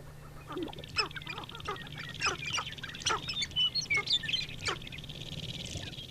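Several short birdlike calls and hoots from male greater prairie chickens on a lek ring out over a steady low background hum, some overlapping in a busy, outdoor chorus.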